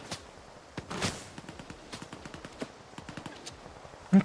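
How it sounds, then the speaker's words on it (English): Gunfire in S.T.A.L.K.E.R. 2: Heart of Chornobyl comes as a string of sharp, fairly faint shots at uneven intervals, with a louder burst near the start and one close, loud shot at the very end. "This is just the shooting into the darkness nonsense."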